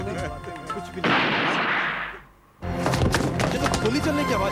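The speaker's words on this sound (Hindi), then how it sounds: "ये तो गोली चलने की आवाज थी। हाँ, गोली चली है।" A single sharp gunshot cracks out loud and close, followed by a decaying echo that cuts off briefly before voices and other sounds resume over it.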